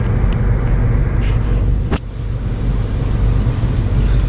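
An old Chevy Nomad rolls along with a steady low engine and road rumble heard from inside the cabin, loud and continuous, with a brief sharp knock partway through.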